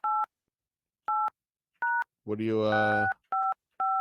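Telephone keypad tones beep in short evenly spaced pairs, briefly interrupted by a voice speaking, then more beeps follow, clear and close.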